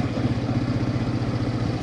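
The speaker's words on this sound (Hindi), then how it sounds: "बाइक ने यहाँ पे झटका लेना स्टार्ट कर दिया है" A Bajaj 125cc motorcycle engine runs close by as its fuel runs out, a continuous low rumble with a rapid, uneven pulsing in the lower end and no talk.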